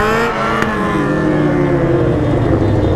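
Loud, close engine of a BMW S1000 motorcycle at a traffic light, holding a steady high rev with a sharp blip early, its pitch then sliding gradually lower as it continues.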